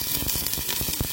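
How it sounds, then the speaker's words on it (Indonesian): Chopped onion and garlic sizzle as they fry in a small amount of cooking oil for a Hong Kong-style dish, a steady dense crackle with brief louder pops, close and alone without talk. "Sekarang kita masukkan bawang bombay dan bawang putih"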